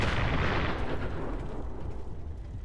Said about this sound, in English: let's throw this Nuka Grenade from the same distance